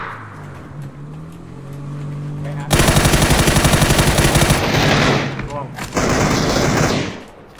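Rapid automatic gunfire in the PUBG video game, loud bursts of fast shots over a running vehicle engine, with a short pause before another burst.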